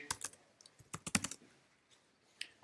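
A computer keyboard is typed on in a quick burst of close, crisp keystrokes, followed by a few scattered taps.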